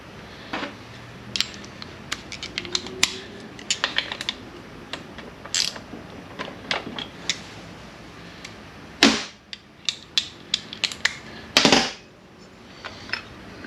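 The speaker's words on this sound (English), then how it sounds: "I think I'm going to go ahead and tighten down the fill plug over here" A socket ratchet clicks as a fill plug is tightened during a PYRA rebuild, with bursts of quick metallic pawl clicks and a few sharper knocks, close up and without talk.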